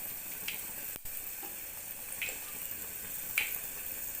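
Fenugreek and mustard seeds sizzle in a hot clay pot, a steady soft hiss with a few faint pops and crackles scattered through, no talking.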